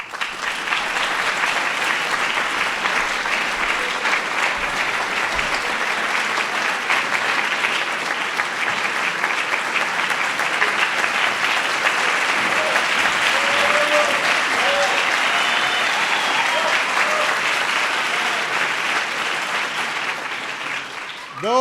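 Long, steady ovation from a ceremony audience for arts and humanities medal honorees, dense clapping holding at full strength throughout before tapering at the end.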